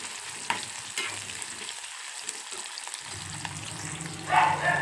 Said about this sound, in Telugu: ఇప్పుడు మనం కోసుకున్న కాకరకాయ ముక్కల్ని కొన్ని కొన్నిగా తీసుకుని వేపుకోవాలండి